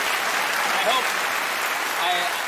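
Television studio audience applause on a late-night talk show, a loud, continuous roar of clapping with voices mixed in underneath.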